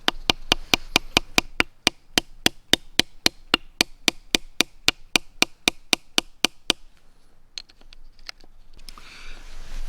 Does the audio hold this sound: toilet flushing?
no